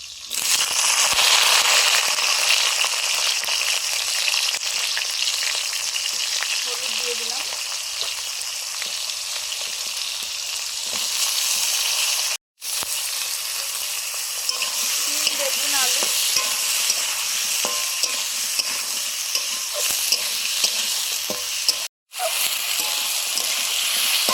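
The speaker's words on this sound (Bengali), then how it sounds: "শুকনো লঙ্কা পাঁচ ফোড়ন এবারে সবজিগুলো দিয়ে দেবো" Spinach, potato, eggplant and bean vegetables frying in oil with dried red chilli and panch phoron, a loud continuous sizzle with crackling pops and stirring, broken by two brief cuts to silence.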